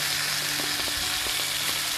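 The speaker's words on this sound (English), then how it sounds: "And then now I'm gonna add the tomatoes we cut earlier." Chopped tomatoes hitting a hot pan of ginger and garlic, a steady close, dense sizzle with a few faint clicks from a utensil, no voices.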